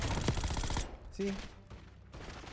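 SAUG submachine gun shots in Black Ops 6, a rapid burst of automatic fire that cuts off abruptly after the first second, followed by quieter game sounds and scattered noises.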